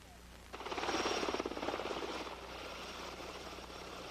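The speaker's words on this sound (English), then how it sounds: "Medevac helicopters descended into the Oconaluftee Visitor Center as heavy clouds descended onto the Smoky Mountains Park." Medevac helicopters descending onto the Oconaluftee Visitor Center in the Smoky Mountains under heavy clouds during a blizzard, rotor thumping swells in quickly, peaks with rapid chopping pulses, then settles into a steadier drone.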